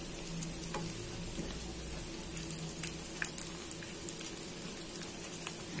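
Steady quiet sizzle of egg-coated steamed vegetable tofu frying in oil, a continuous soft crackle with small pops and no talk.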